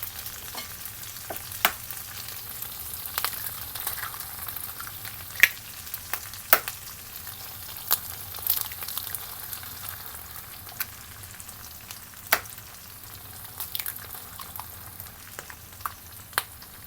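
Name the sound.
eggs frying in a pan for an omelette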